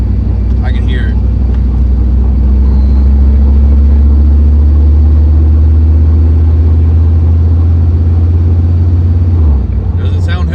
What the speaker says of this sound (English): I think that axle that I showed y'all in last video, I think it's going out.